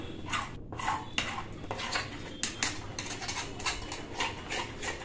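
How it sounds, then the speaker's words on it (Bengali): A frying pan is set down on a glass-top stove with clattering metallic knocks and scrapes, several sharp close clinks spread unevenly across a few seconds over a low room hum. "আর দেখতে পাচ্ছ ফ্রাইং প্যান বসানো"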